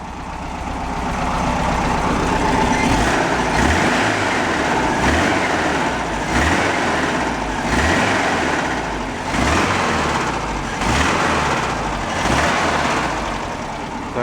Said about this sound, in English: I'm pretty sure the muffler internally is rotted out and it's rattling, but it could be the fan also.